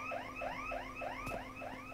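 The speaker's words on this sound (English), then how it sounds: "The door store has an alarm going off" A store alarm in the video game Unturned whoops in a repeating rising electronic siren, about four cycles per second, steady and moderately loud with no talk.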